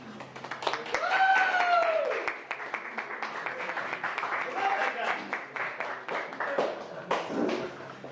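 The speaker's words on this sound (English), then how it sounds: "please welcome Ryan with a great round of applause" An audience applauds to welcome a speaker at a talk night, the clapping swelling early and then continuing steadily, with a few voices and shouts mixed in.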